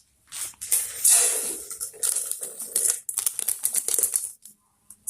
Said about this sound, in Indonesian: kita masukkan kapur barus ini ke dalam kaleng